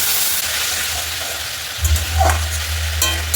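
Dried and green chillies sizzle hard in a hot pan as a little water goes in, a steady loud frying hiss with stirring scrapes and a sharper burst of spitting partway through.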